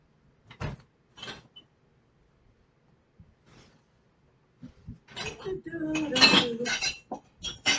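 Bowls and dishes clinking as a clean bowl is fetched, a few isolated ceramic knocks early on, then a denser run of clattering and scraping with a cupboard sound, with someone talking over part of it.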